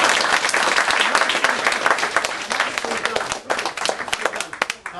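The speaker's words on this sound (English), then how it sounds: "Give a round of applause" Loud, dense applause from a crowd, steady clapping that fills the room and begins to thin out near the end.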